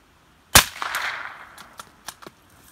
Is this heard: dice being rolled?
no